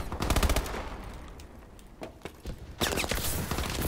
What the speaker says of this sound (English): Luckily I have this fast machine gun.